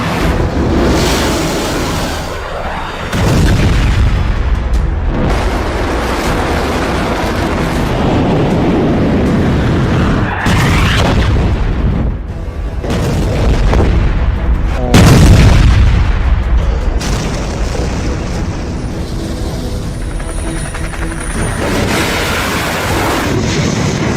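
Iranian missiles explode in a series of heavy, deep booms with long rolling rumbles between them, loud and sustained, with several distinct blasts in sequence.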